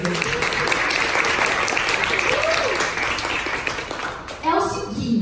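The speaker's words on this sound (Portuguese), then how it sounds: "eu quero que vocês deem uma salva de palmas para esse casal maravilhoso" An audience at a speaking event in São Paulo gives a round of applause for a couple on stage, steady dense clapping close by that dips briefly and then swells again, with voices and cheers mixed in.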